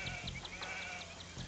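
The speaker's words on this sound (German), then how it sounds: "Ey, ich habe zwei Schafe gefunden." Sheep in the video game Age of Empires II bleat in a rapid, rhythmic series of short quiet calls over steady game background noise.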